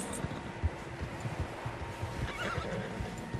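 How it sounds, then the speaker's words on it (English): Several horses in Red Dead Redemption 2 whinny and clop along at a moderate distance, a soft uneven patter of hooves with an occasional neigh over ambient outdoor sound. "Tracks. Horses, quite a few of them."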